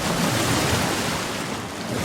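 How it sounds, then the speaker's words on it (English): Giant waves from the Tsunami spell in Minecraft's Iron's Spells mod roar as a dense, continuous surf-like wash, loud and steady with no pauses. "Giant waves."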